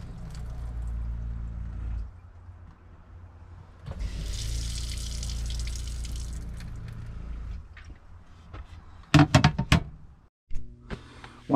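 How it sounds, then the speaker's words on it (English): Water runs from a household tap after a water filter bypass, a steady hiss that swells louder midway, followed by a few sharp clanks and knocks near the end. "the water is running fine"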